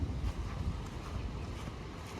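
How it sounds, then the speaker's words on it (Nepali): Strong gusty wind buffets the microphone with a low, loud, continuous rumble and rushing noise outdoors at home, with no voices. "आजको मौसम चाहिँ एकदमै खतरनाक भइरहेको आम्मामा हावा चलेर"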